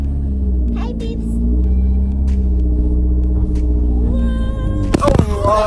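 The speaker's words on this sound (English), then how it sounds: "my 13-year-old cousin is driving us on a stick shift" A stick-shift car driven by a 13-year-old girl hums as a steady low engine rumble throughout, with voices in the cabin and a louder burst of noise near the end.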